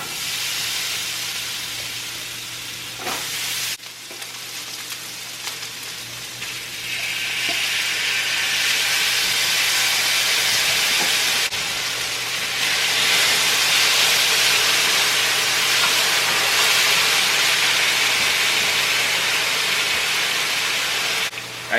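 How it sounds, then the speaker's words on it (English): Potatoes, garlic and onions sauté in hot oil in a pan, giving a loud, steady sizzle and hiss that briefly dips early on, then holds strong and continuous. "we're gonna throw the potatoes, some garlic, and a little bit of onions in there. Get that sauteing off, cooked down really nicely."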